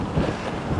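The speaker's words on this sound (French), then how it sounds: "j'ai le vent de face" Headwind roars against a cyclist's microphone while riding through a rural valley, a steady broadband rush with low buffeting gusts, loud and close, with no voices.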